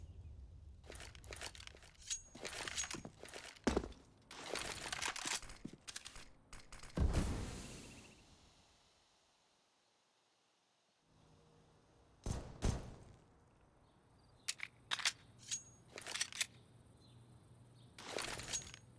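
Rapid Glock pistol shots spammed in a professional Counter-Strike match on the Inferno map, sharp clustered cracks in bursts, fading to near silence midway before more scattered shots return.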